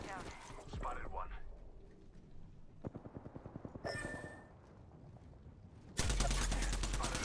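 Gunfire in a shooter video game: a quick rhythmic burst of about a dozen shots midway, set among other scattered game noises, with someone talking quietly over it.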